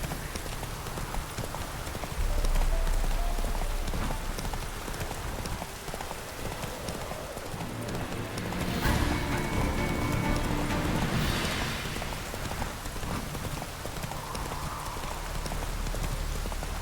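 Horse hooves clip-clopping in The Witcher 3: Wild Hunt, a steady galloping rhythm under a broad wash of ambient noise with occasional rustling swells, moderately close.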